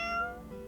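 A game character meows at a lucky cat statue in the video game The Nirvana Initiative: one short, clear cat meow, up close, with no talking.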